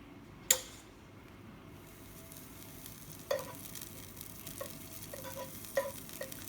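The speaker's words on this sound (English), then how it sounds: "I'll get a little bit of butter on the pan" A faint, steady sizzle of butter in a hot frying pan before toast goes in, broken by a few soft clicks and taps of a utensil.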